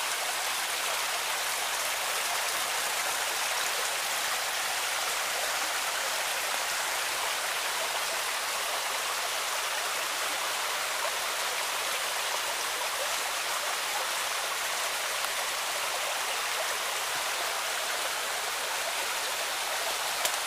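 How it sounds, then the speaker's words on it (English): A small seasonal creek fed by hillside runoff flows steadily through woodland, a continuous broadband rush of water, close and even throughout with no voices. "our little seasonal trickle has now made a pretty little creek."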